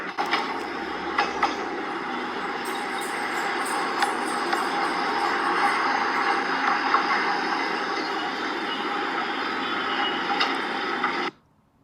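A train on India's longest rail route, crossing Kerala and Tamil Nadu, rumbles steadily with a continuous rolling hiss and occasional clicks and squeaks for about eleven seconds before cutting off abruptly.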